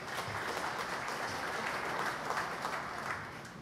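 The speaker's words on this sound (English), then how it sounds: "Let us give them again a big round of applause." Audience applause at a Masonic lodge centennial installation of officers ceremony, steady dense clapping from a crowd held for several seconds, fading slightly toward the end.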